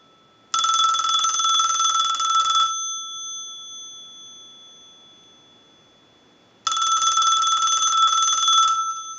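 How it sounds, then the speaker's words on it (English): A Western Electric Princess telephone bell rings on a line analyzer's ring cycle: two loud, close bursts of bright trilling ring, each about two seconds long, separated by a pause with a fading tone. "use the analyzer and send a ring cycle like you were getting a call"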